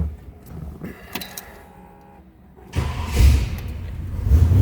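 A 1964 AMC Rambler American 440 convertible with a Ford 8-inch rear end starts up: a few quiet clicks and a short crank, then the engine catches and settles into a rough, loud idle close by.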